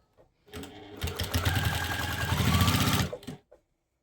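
A sewing machine stitches across the handle of a quilted boxy nappy pouch, a steady fast needle rattle running for about two and a half seconds, with brief handling noises before and after.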